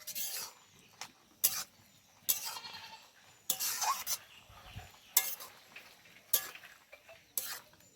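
Jute leaves with fish roe stirred in a pan, a series of separate scraping strokes of a spoon against the metal, spaced about a second apart, close and crisp over a quiet background.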